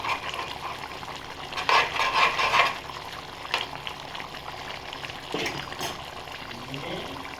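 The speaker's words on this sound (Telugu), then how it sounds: "కొద్దిగా కలిసేలాగా కొద్దిగా గ్రేవీలోకి తీసుకుంటాం" Snakehead fish curry being stirred into its gravy in a pan: soft continuous sizzle with wet scraping and stirring bursts, one louder stretch early on, close by.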